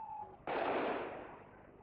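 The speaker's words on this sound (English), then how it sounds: "Shots fired down alleyways." A single sharp gunshot of live army ammunition rings out in an alleyway during street unrest, a sudden crack followed by a decaying echo, fairly distant and alone.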